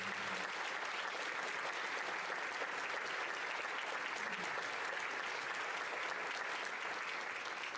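Sustained applause from the audience at a sixth grade promotion, thick and continuous clapping at an even level from start to finish.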